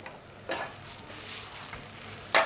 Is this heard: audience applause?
no